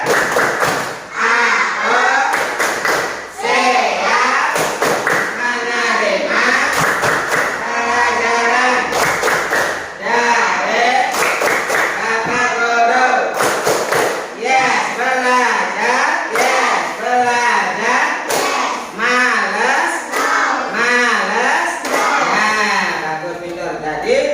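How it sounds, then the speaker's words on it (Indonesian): A classroom of students performs the 'tepuk belajar' clapping chant, rhythmic sharp hand claps punctuating loud group chanting voices throughout, close and energetic. "Bisa tepuk belajar? Bisa ya, yang mulai 1, 2, 3, tepuk belajar"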